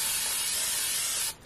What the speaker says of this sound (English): I'm going to give it another quick spray of fixative.